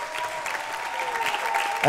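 An audience at a stage show in Albi claps in steady, continuous applause. A voice talks over it, and the applause grows a little louder toward the end.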